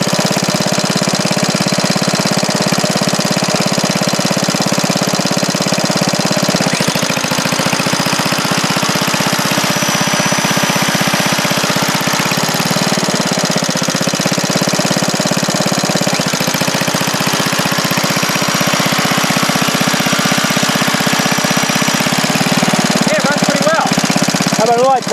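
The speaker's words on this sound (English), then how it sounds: "Mike has it running now and. He's got the grinder plugged in" A DC generator's engine runs loud and close with a steady, rough, knocking drone while an angle grinder is plugged into it and the generator carries its load.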